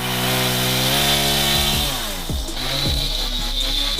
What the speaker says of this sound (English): he's warming up his chainsaw now. Do you hear that?